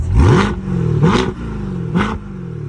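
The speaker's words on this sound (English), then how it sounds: "And check out this exhaust." A sports car's exhaust revs three times in quick bursts, each rising then falling back to a rumbling idle, loud and close.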